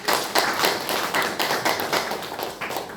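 A congregation claps in a church service, a dense, steady burst of many hands filling the room evenly for the whole stretch, with no talk over it.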